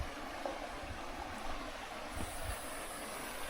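Strong stream current rushing steadily where fish are being caught in cold water, a continuous broadband wash that stays even throughout with no voices.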